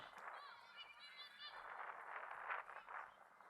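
Starlings call at Manchester Airport, a busy stretch of chattering, warbling bird calls at moderate distance that runs continuously against faint background noise.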